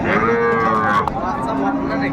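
A cow with a calf at a cattle market lets out a long, loud moo close by, followed by a lower drawn-out call.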